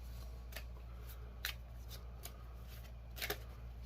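Tarot cards are shuffled in soft, irregular riffles and snaps, with several short crisp bursts spread across a few seconds over a steady low hum. Nobody speaks.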